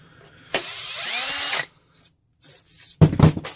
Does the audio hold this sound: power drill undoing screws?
yes